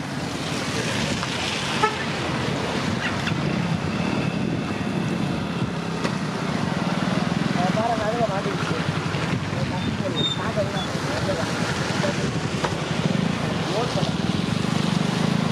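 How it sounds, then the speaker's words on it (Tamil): High, flooded Adyar river with surplus water released during Cyclone Fengal, a steady broad rushing flow at moderate distance, continuous throughout. "நீர் நிறைந்து ஓடிக்கொண்டிருக்கிறது."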